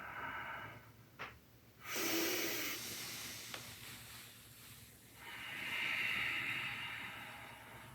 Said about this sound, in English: Exhale out the nose, remembering to engage the belly as you breathe deeply.